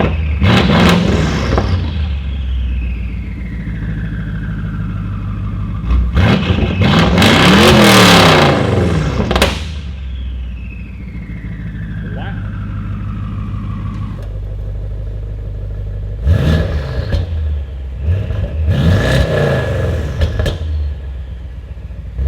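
BMW X5 50i V8 fitted with an aftermarket valved exhaust, valves open, revving hard in several loud bursts that swell and fall back to a deep idle, with audible turbo spool as the revs drop.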